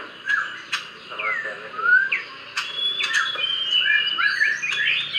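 A pet bird recovering from a cough gives repeated bright chirps and whistled calls in short bursts, close and clear against a quiet background, with brief sharp clicks between phrases.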